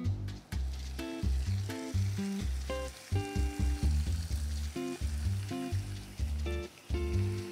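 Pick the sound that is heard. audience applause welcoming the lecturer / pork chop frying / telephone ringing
pork chop frying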